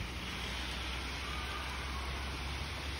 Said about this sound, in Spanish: fui a grabar y me agarró la lluvia.